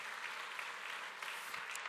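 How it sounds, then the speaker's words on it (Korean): A church congregation at a Sunday worship service claps in welcome of newly introduced guests, a soft, continuous patter of many hands heard faintly from a distance with no talk. "우리 환영의 박수 함께 하겠습니다."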